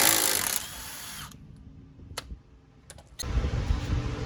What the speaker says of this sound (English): hit it with the impact gun up here